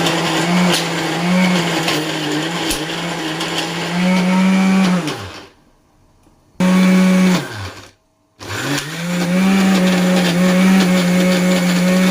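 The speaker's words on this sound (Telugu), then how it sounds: "మిక్సీ జార్లో మనం మిక్సీ వేసేద్దాం ఇది ఉడికే లోపు మిక్సీ వేసేద్దాం" A mixer grinder jar blending masala for an ivy gourd curry, running in loud, steady whirring bursts that stop abruptly twice and start again, each restart winding up quickly to full speed, with no talking.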